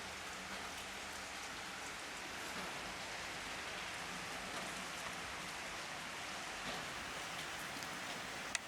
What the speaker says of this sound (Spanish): A la noche empezó a llover y me puse a grabar también